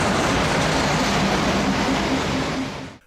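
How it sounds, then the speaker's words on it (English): A steam train on the Gulbene-Aluksne narrow-gauge railway rolls in with a loud, steady rumble and rattle of wagons close by, fading out abruptly at the end. "Here comes the afternoon train."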